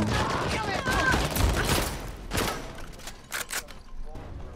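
Rapid bursts of AK rifle fire in the Uncharted 4 video game, loud and dense at first, then thinning into scattered shots, with players' voices talking over the gunfight.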